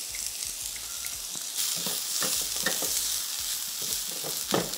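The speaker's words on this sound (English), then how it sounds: "Gonna let this saute for a bit." Onions sautéing in a pan for a breadfruit curry sauce, a soft continuous sizzle with a few brief stirring scrapes, close but fairly quiet and with no talking.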